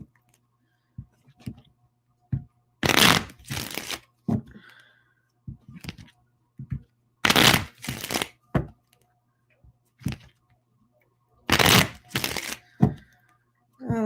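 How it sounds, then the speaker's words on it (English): Playing cards are riffled in several sharp, crisp bursts separated by quiet pauses, with small taps and clicks in between. "And you all see me shuffle these cards."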